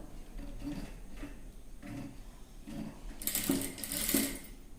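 Sewing machine running in short bursts while stitching piping onto a blouse neckline, a soft mechanical whir with a louder, brighter stretch of stitching near the end, fairly close and with no talk.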